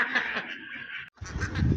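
Ducks quacking in a park while being fed popcorn on a windy day, a brief burst of nasal calls close by, then a short gap and rumbling wind-like noise with more calls.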